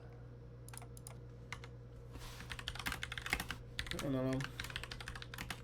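Fingers type code on a computer keyboard in quick, irregular bursts of clicky keystrokes, close and clear over a steady electrical hum, with a brief mumbled remark from a person partway through.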